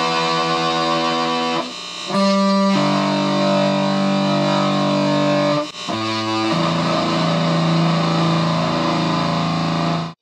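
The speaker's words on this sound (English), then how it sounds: "Here's what it sounds like going through this fuzz." An electric guitar played through a DIY Fuzz Face fuzz pedal with tone control gives loud, thick, distorted sustained notes and chords, with a short pause and a fresh strum partway through, no voices.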